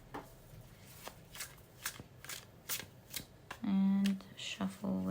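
A deck of tarot cards is shuffled up close in repeated quick riffles and taps, with soft talking between the bursts.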